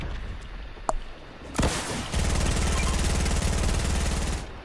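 Gunfire in a video game arena match: a sharp shot or two, then a sustained rapid burst of automatic fire that carries on steadily for a couple of seconds before cutting off.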